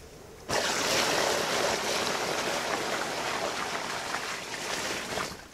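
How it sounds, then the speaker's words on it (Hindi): Water is poured onto the plastic sheet lining a freshly laid azolla bed in Balrampur, Chhattisgarh. A sudden, close, steady rush of splashing water runs for about five seconds, with no voices. "अब चला इसमें पानी लान के डाले।"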